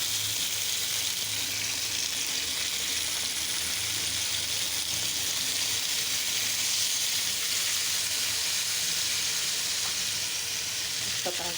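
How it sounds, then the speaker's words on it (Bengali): Rohu fish pieces frying in hot oil for a coconut-milk korma, a steady, dense sizzle that holds loud and even throughout, with faint stirring and a murmur of voices underneath. "মাছগুলি ভেজে নিব।"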